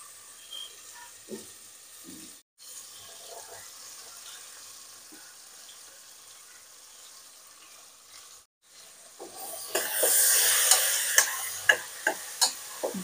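Red pumpkin pieces sautéing in a salted pan over a full gas flame, a steady low sizzle for most of the time that swells into louder, brighter frying near the end, broken by sharp clicks of a spatula against the pan.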